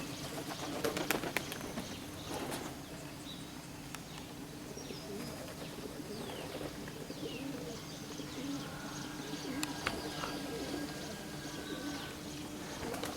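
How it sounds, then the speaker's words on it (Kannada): Racing pigeons in a loft, with soft repeated cooing and scattered chirps, plus occasional wing flaps, at low level and with no talk. "ಈಗೀಗ ಬರ್ಡ್ಸ್ ಎಲ್ಲವೂ ಕಲಿತು ಯೂನಿಟಿಯಾಗಿ ಹಾರೋದು ಶುರು ಮಾಡ್ಕೊಂಡಿದ್ದಾವೆ"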